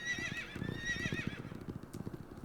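A horse in the video game Horse Riding Classic whinnies in a short shrill burst, followed by a quick run of hoof clip-clops at a steady gallop rhythm, clear and close with no talking.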